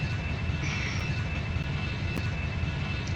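Steady, continuous jet engine roar of an Airbus A321 in the Extreme Landings flight simulator game, a dense even drone with a thin high whine running through it and no talking.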